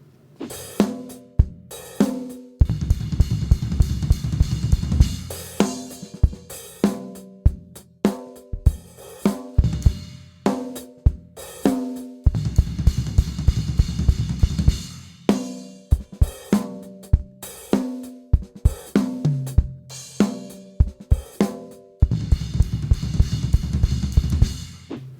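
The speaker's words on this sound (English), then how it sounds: "Okay, so now we can put it in a groove and see what it sounds like." Drum kit groove broken up by bursts of a fast fill alternating floor tom and cymbal with kick, loud and close, repeating in cycles over about twenty-five seconds with no talking.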